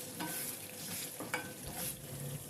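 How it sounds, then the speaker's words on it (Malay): Rendang simmering in a pan with kaffir lime and turmeric leaves, stirred with a few scraping strokes over a soft, continuous sizzle, close and quiet. "Gaul rata biar daun-daun tadi sebati bersama kuah rendang."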